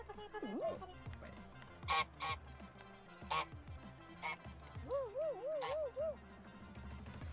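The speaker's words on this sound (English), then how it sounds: "we got the goose emote" Repeated cartoonish goose honks from an emote in the Fall Guys video game, several short bursts over game music and background noise.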